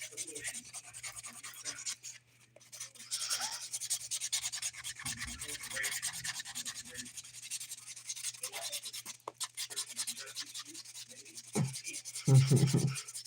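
Buffing dip powder nails in a DIY French and chrome accent manicure: steady soft rubbing and sanding strokes continue throughout at close range, with a low hum underneath and a few louder scuffs near the end.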